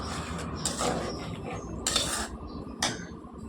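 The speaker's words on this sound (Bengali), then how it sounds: "এবার আমি যে চালগুলো ভিজিয়ে রেখেছিলাম ওই চালগুলোকে এবার আমি দিয়ে নেব।" Soaked Gobindobhog rice tips into a metal cooking pot, giving a close, bright clatter of grains and utensils in a few short bursts over a low background rumble.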